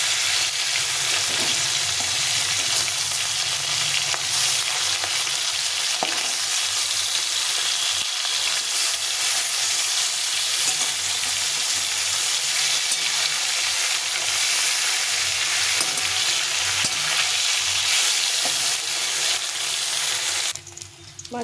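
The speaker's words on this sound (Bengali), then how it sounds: "মাছটা একদিকে ভাজা হয়ে গেছে, উল্টে পাল্টে এগুলো ভেজে নিতে হবে।" Fish pieces frying in hot oil, a steady, loud broadband sizzle that continues without a break and trails off at the very end. No one speaks.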